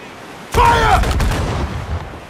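Ship cannon fire in the naval combat of Assassin's Creed IV Black Flag (Freedom Cry), a single loud booming blast followed by a rumbling tail, with a voice shouting over it.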